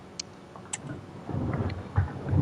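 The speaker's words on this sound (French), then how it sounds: "Il pleut bien." Rain falling outside with a low rumble of thunder building toward the end, a steady close wash of noise broken by a few brief sharp clicks, with no one talking.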